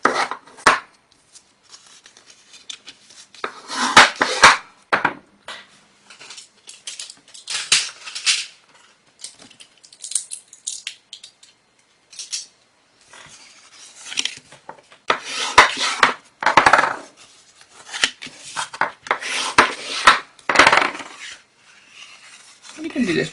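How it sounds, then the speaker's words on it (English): A paper card is folded and its score lines burnished by hand while making a candle-carrying card, giving bursts of close rubbing and scraping with quiet gaps in between. "just fold and burnish all of these score lines too"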